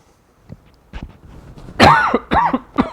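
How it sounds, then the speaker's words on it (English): A few restrained, muffled coughs and throat clearings, close by, starting as small soft bursts and then two or three louder coughs in quick succession. "Your coughs are so polite, it sounds like your mic is lagging."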